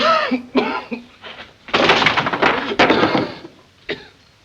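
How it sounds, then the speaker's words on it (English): A man coughs in harsh bursts near the middle, with a few brief voice sounds before and after. "Suppose you wait till he quits coughing."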